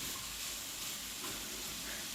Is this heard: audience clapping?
no